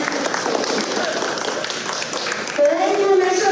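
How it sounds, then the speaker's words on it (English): An audience at a fifth grade graduation recognition ceremony claps in a steady, close wash of applause that fades out near the end as a voice begins. "give yourselves another really big hand of applause for all you've accomplished"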